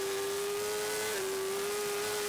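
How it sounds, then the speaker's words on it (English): Racing motorcycle at the Isle of Man TT 2014 pulling hard under acceleration, a steady high engine whine that dips briefly as a gear changes, then climbs again, heard from on board. "Hard on the gas again now."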